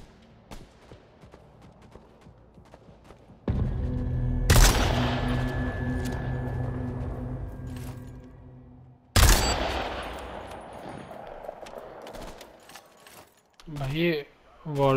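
Sniper rifle shots in the video game Bloodhunt: two loud, sharp cracks several seconds apart, each trailing off into a long rumbling decay, with quieter game noise between them.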